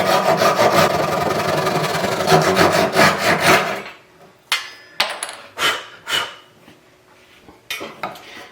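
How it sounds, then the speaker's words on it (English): A Japanese hand saw cuts into a wooden table leg during a repair, first a rapid run of rasping strokes, then a pause followed by several slower, separate strokes, close and clear. "I'll come in with a Japanese saw, try to finish off the table saw cut."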